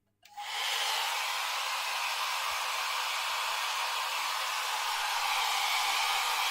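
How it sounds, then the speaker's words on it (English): A hair dryer switches on and blows hair with a loud, steady broadband whoosh that holds constant after a quick start, no voices. "I'm gonna very quickly blow dry."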